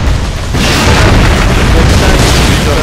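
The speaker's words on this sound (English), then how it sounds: "These are bolt pistols." Bolt pistol fire in the video game Space Marine, a loud, booming, explosive roar that swells after a brief quieter start and stays heavy and sustained throughout, with voices faintly mixed in.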